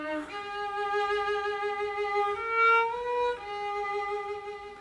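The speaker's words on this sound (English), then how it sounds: "But if I lighten up the bow," Solo cello bowed lightly and quickly near the fingerboard, a soft airy sustained tone moving through a few held notes, close and unaccompanied.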